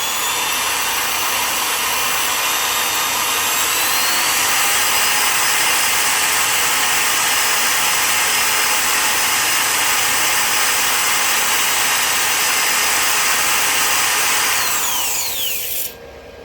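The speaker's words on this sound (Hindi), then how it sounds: "अब मैं ड्रिल मशीन ऑन कर रहा हूँ" Electric drill machine drawing heavy current on a lithium phosphate battery UPS setup, running with a loud steady high-pitched whine and motor buzz, then spinning down with a falling tone near the end.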